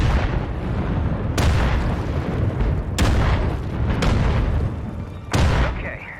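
Mortar rounds detonating in a shooter video game, several loud booms landing about a second or two apart over a continuous dense rumble of battle noise.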